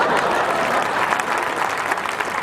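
Steady dense clapping from an audience at a Hindi comic poetry gathering, continuous and fairly loud throughout with no break.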